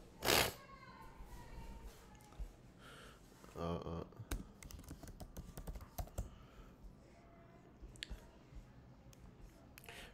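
A computer keyboard clatters nearby in irregular bursts of clicking keystrokes, with a louder rattle at the start and another cluster midway, while someone talks quietly in the background.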